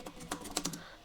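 Keystrokes on a computer keyboard while writing code, a quick run of close, crisp clicks with uneven spacing and a few louder taps, with no talking.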